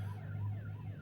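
A wailing siren rises and falls in a short warbling sweep, faint and distant over a steady low hum, with no voices.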